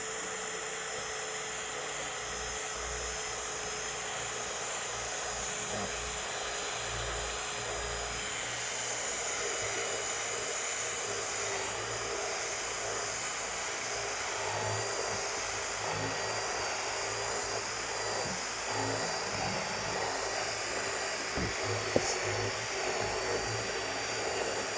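A power drill with a large hole-cutting bit bores steadily through the sheet metal of a Honda Element hatch, a continuous high whine and grinding roar that holds for the whole stretch with a brief sharp click near the end.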